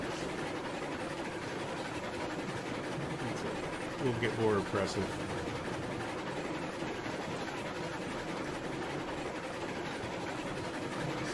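A three-car train in the video game Railroads Online runs with a steady low rumbling engine drone, interrupted by a brief clatter, while someone talks over it.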